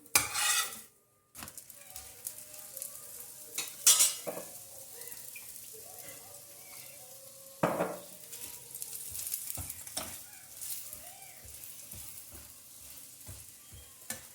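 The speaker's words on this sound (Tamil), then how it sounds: "ரெண்டு சைடும் வேக விட்டு எண்ணெய் ஊற்றி வேக வைக்கணும்" An aloo paratha cooks in oil on a griddle with a steady, moderate sizzle, interrupted by clanks of a metal spatula and a few scraping turns. No voices are heard.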